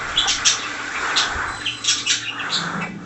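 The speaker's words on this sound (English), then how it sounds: "I'll walk a million miles for one of your squawks, Joey." A pet cockatiel gives a run of short squawks and chirps, some sharp and close, over a soft background hum with no talking.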